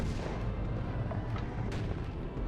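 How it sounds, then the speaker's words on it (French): Cannon fire in the video game Kya: Dark Lineage, a dense roaring rumble of booming blasts with a few sharper cracks layered through it, loud and continuous, no talk. "On voit le boulet de canon rentrer dans le canon ennemi."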